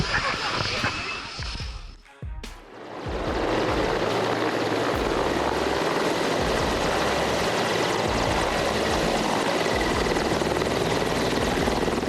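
A Mil Mi-24D Hind attack helicopter at Heli Expo 2012 gives a loud, continuous rotor and turbine roar. A sharp transient comes through at about two seconds, and the roar then holds steady and close.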